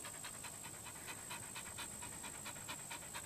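A dog panting steadily and rapidly at close range, each quick breath forming a regular rhythm over a faint constant high-pitched hum in an indoor desk setting.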